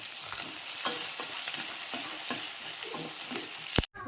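Onions and green chilies sizzle and crackle steadily in hot oil with cumin and mustard seeds, close and continuous, with soft stirring scrapes throughout and a brief knock near the end.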